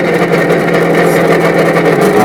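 A sound module in a Traxxas Slash RC truck plays a simulated engine idling in park, a loud, steady, rumbling drone with a slight pulsing texture and no talk.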